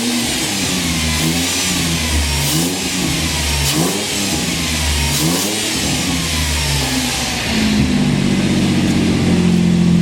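A Ford Sierra XR31 engine revs repeatedly during a pre-tune after a couple of minutes of running, rising and falling throatily, then settling into a louder steady drone near the end.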